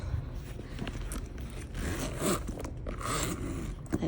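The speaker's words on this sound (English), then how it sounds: "I love a smooth leather zipper." A leather bag's zipper is drawn open in a series of short raspy pulls, close and fairly quiet, with no talking.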